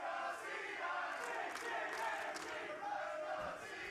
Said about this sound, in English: I'm going to let the crowd do the talking.